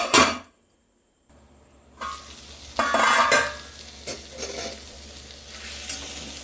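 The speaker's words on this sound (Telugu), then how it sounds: "ఆయిల్లో ఫ్రై కానిద్దాం" Chicken fries in hot oil in a pot for chicken pulao, with a near sizzle broken by a brief drop-out and bursts of loud stirring and scraping against the pan.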